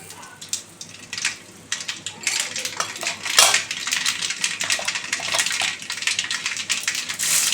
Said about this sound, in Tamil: கடுகு, தேங்காய் எண்ணெய் ஊற்றி கடுகு போட்டாச்சு.